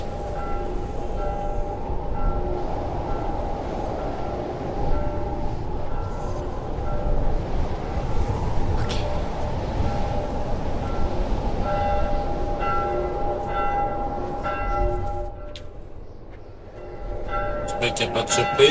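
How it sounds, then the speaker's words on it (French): A bell rings at a distance, with steady tonal strikes sustained over a background of ambient noise and low rumble throughout the clip. "J'entends une cloche là."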